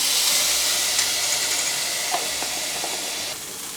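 Jalapeno, bacon and garlic sizzle in a pan with a steady, moderately loud hiss, and a few faint clicks of a utensil stirring sound through it.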